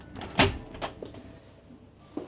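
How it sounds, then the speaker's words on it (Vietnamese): A hotel room door in Da Lat is pushed shut with one sharp close thump, followed by a few softer clicks and knocks from the latch and room, all near and fairly quiet. "Đóng cửa lại."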